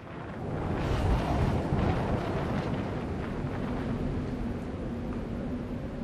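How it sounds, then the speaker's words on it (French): Icy wind blowing across Antarctica, a dense, roaring rush of noise that swells early and then holds steady and loud, with no voices. "On sent tout de suite un vent glacial."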